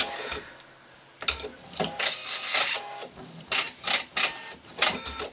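A sewing machine stitching fabric strips for a quilt runs in short, irregular mechanical bursts of rapid ticking, close and fairly loud, separated by brief pauses.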